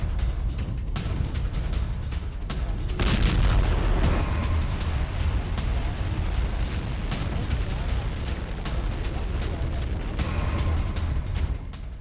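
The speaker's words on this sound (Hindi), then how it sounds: "हमास ने रॉकेट से टैंक पर किया अटैक।" Rocket attack on an Israeli Merkava 3 tank in Gaza: heavy booming blasts with a big burst around the third second, over dense rumbling war noise and a murmur of voices, loud and distant.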